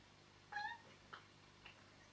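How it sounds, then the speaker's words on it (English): A pet cat meows during a home Zoom call: one faint, drawn-out meow, then a brief softer chirp and a fainter trailing call, over a quiet room. "It's my cat."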